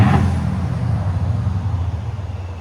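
A Mercedes S-Class V8 gives a short rev that swells at the start, then falls back to a moderate, throbbing low rumble at idle, heard close with no talking.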